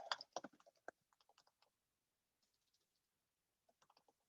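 Nervous, quick typing on a computer keyboard: a dense burst of close key clicks, then sparser taps, a short pause, and a final small cluster of keystrokes.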